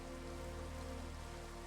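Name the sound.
rain in video game Minecraft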